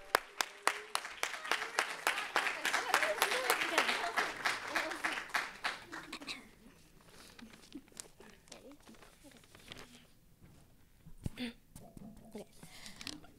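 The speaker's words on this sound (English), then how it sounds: "So give it up and don't stop clapping until they get to the stage." A crowd claps in a quick, steady rhythm for about six seconds, then the applause fades to scattered claps and murmuring, with talk around it.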